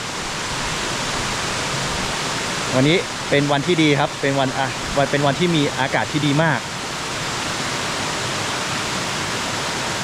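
A waterfall in a deep gorge pours as a steady broadband rush through the whole clip, with someone talking briefly in the middle.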